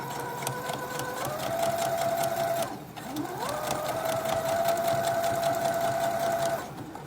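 A domestic sewing machine stitches a fabric wrap in two steady runs of motor hum with a brief pause between, loud and close, with no talking.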